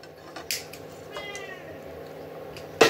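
A house cat meows in a village home kitchen while samosas are being cooked. There are a few moderately faint meows, with brief kitchen clatter and knocks around them and a louder clatter at the end.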